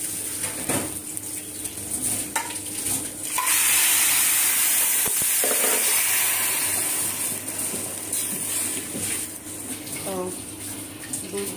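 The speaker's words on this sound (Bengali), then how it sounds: "চাউলটা ভাজা হয়ে গেছে, এখন আমি পানি দিব।" Water is poured into a pan of fried rice on the stove, setting off a loud, steady hiss and sizzle that swells and lingers for several seconds, with faint talk underneath.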